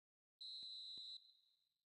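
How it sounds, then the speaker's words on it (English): A referee's whistle signals half-time in a football match: one loud, shrill, sustained blast of about a second that drops off sharply and trails away, with two soft thuds underneath. "There's the whistle for half-time."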